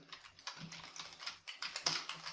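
Rapid, uneven clicking of keys on a computer keyboard, fairly quiet and close, with irregular bursts of keystrokes and brief pauses.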